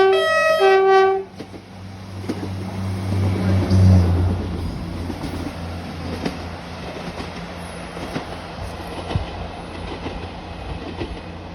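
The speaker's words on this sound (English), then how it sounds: "And here's the next train, arriving from Wick to Inverness." A passenger train running from Wick to Inverness rumbles across a rail bridge at Evanton, its low steady rolling growing louder then easing into a long clattering pass, with a brief tone at the start.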